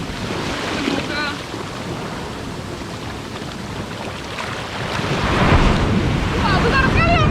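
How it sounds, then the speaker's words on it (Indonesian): Large ocean waves break on a beach at Pelabuhan Ratu as a loud, continuous roar and wash that swells near the end, mixed with wind noise and faint voices. "Wah besar sekali ombaknya."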